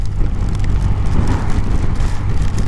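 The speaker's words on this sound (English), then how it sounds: "there's a bus coming" A bus rumbles past a motorcyclist riding in strong, gusty wind, its low engine drone blending with steady, loud wind buffeting on the microphone throughout, with no talking.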